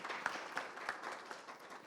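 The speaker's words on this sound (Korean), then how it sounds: "박수 부탁드리겠습니다" An audience at a smart-farm equipment standards briefing session applauds faintly and steadily, the clapping spread and distant with a few sharper claps standing out.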